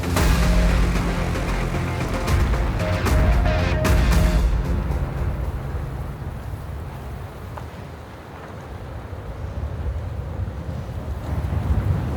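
Strong wind in an arctic snowstorm in the Lyngen Alps, loud and steady, rushing and buffeting against the microphone throughout without speech.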